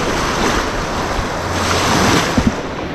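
Ocean waves wash onto the beach at Pass-a-Grille in a continuous loud surf roar with gusty wind noise, a couple of sharper splashes near the end.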